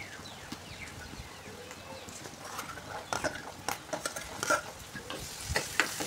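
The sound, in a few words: peas frying and stirred in oil for Schezwan fried rice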